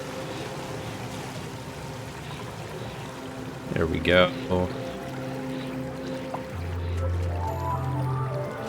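Water gushes briefly through an opened door in Oxygen Not Included, a short pouring splash in the middle, with someone talking and game music around it.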